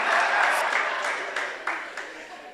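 Applause from a conference audience in Guayaquil, Ecuador, a fairly loud wash of clapping that gradually fades, with a few sharp claps standing out toward the end.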